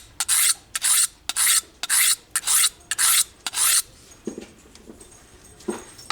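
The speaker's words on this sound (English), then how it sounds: "So let's go ahead and finish putting an edge on this thing." A knife blade is drawn across a diamond sharpening stone in eight quick, even rasping strokes, close and loud, then a pause with a few soft scrapes and taps.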